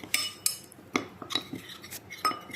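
A spoon stirs mahalabia dessert mixture in a pot, giving a series of light metallic clinks and scrapes at a steady pace, close and fairly quiet.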